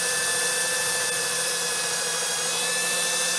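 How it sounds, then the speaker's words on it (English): Power drill whirring steadily as it bores into an aluminum RV screen door, a continuous close motor drone with high tonal whine and no pauses. "this drill would be walking all over the place"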